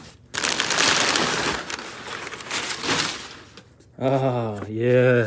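Paper packing material crinkles and rustles loudly up close while a Fujifilm 100-400mm camera lens is unboxed, in long bursts before a person speaks near the end.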